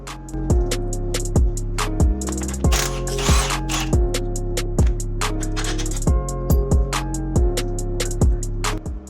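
A ratchet loosens a strut bolt on a BMW 335i during a BC Racing coilover install, giving loud, close, rapid metallic clicking in repeated bursts with short pauses between strokes, and no talking.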